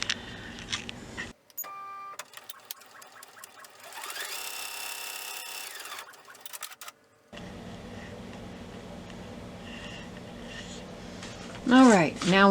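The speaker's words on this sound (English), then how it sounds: "And now it's going to start stitching." An embroidery machine stitching a quilt block, running in bursts of rapid mechanical whirring and ticking with pauses and a silent gap between, alongside a voice talking, and a rising electronic chirp near the end.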